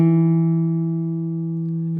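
A guitar plays a sustained note from a major pentatonic lick after sliding up with the ring finger; the single tone rings out alone, steady and close, fading slowly.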